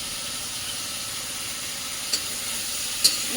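Kakrol shukto curry sizzling steadily as it is sautéed in a pan, a continuous close hiss of frying with a couple of brief sharper clinks from stirring.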